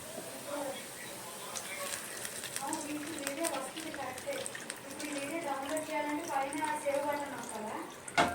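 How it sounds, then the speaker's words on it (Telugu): Water splashes and trickles steadily into a cooking pan while people talk over it, the pouring continuous throughout. "ఇప్పుడు దీనిలో వాటర్ వేసుకుందాము"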